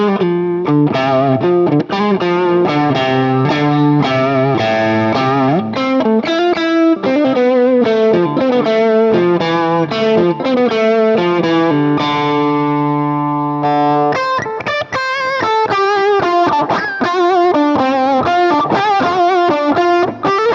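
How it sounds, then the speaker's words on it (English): Electric guitar through a pedal with gain and boost engaged in TH-U Overloud, giving a driven plexi-style tone; distorted chords and riffs ring loud and full with a held chord in the middle, no talking. "I really like gain A with the boost. That reminds me of kind of like a driven plexi sound."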